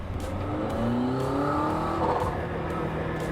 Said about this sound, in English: So the sounds of this car really start to come alive more in sport mode.